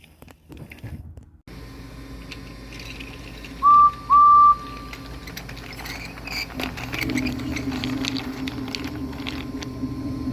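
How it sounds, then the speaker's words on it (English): A steam engine gives two short, clear whistle toots in quick succession, loud over a low rumbling background in an animated railway story, then the engine puffs on. "said Duck, tooting a whistle to Douglas as Donald as he puffed away"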